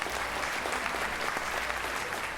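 Audience at a school investiture and awards ceremony at The Choice School, Thiruvalla, applauding its teachers with dense, steady clapping from a crowd, loud and continuous with no talking over it.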